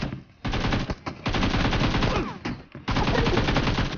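Rapid automatic gunfire in a mobile battle-royale shooter game, loud dense bursts nearly continuous across the clip with brief gaps, close and dominant.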